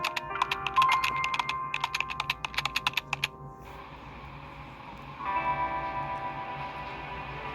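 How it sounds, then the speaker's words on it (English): Rapid clicking keystrokes on a computer keyboard in the Love and Deepspace video game, a busy burst of typing for about three seconds, then quiet ambient tones. "my fingers dance across the keyboard as if nothing's amiss"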